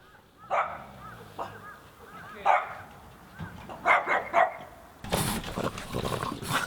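Excited puppies bark and yip in short bursts at varied distances, a few sharp close barks with quieter yelps between, ending in a louder scuffle of overlapping noise.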